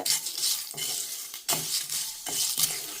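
A spoon stirs and scrapes horse gram dry roasting in an oil-free pan for chutney powder, making close, gritty scraping strokes in a loose rhythm, with light rattling of the grains between sharper scrapes.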